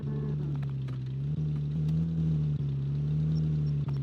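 A black car idles in the Rublyovka RP game with a steady, low engine hum. Small dips in the drone recur every second or so, and no one speaks.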